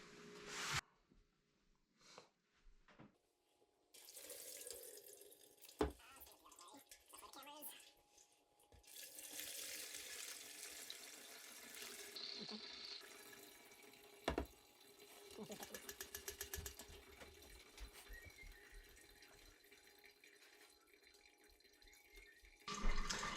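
Cooked head cheese meat and broth being strained, with liquid pouring and dripping into a vessel in bursts, interrupted by clinks and knocks of utensils against the pot, fairly close and moderately loud.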